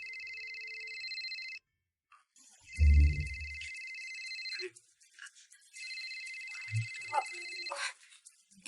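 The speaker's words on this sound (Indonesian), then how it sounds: "Kayaknya ada yang telepon." A phone ringtone plays in a repeating electronic pattern of bright tones, broken by a brief gap, with a thud and a low voice speaking in between.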